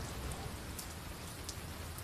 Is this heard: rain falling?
yes